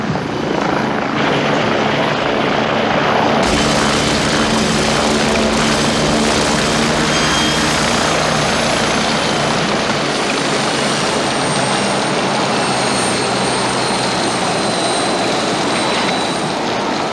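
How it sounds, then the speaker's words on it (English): A helicopter flies loud and close in a 1980 North Sea hijack film scene, its steady rotor and turbine roar filling the whole stretch with no talk over it. "There's your helicopter."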